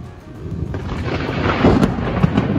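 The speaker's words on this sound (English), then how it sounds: "lightning goes right over the top of me, the thunder, almost instantly right after the lightning flash" Thunder from a nearby lightning storm, a deep rolling rumble that builds louder with sharp cracking bursts, heavy and close, with no one speaking.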